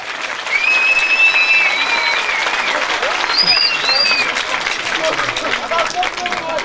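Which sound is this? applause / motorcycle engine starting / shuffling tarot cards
applause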